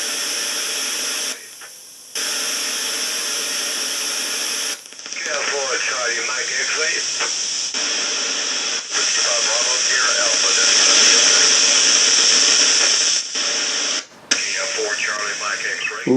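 Amateur radio stations relayed through the ISS repeater come through as faint, fluttery voices buried in loud, steady radio hiss, with abrupt dropouts and squelch breaks.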